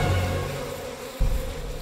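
A bee buzzes in a steady, loud drone close by, with a brief dip and bump near the end before the hum carries on.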